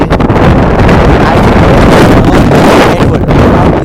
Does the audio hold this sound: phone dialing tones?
no